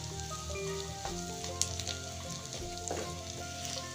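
Steady close sizzle of grated garlic and ginger frying in a pan with bay leaf and red chili, a constant crackle with occasional stirring scrapes and no talking.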